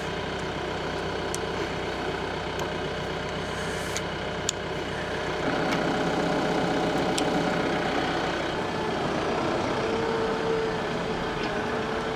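A tractor engine idles steadily nearby with a deep, continuous rumble, growing slightly heavier midway, with a few faint clicks.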